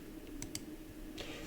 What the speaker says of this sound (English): Let's save my file by pressing Ctrl and S in the keyboard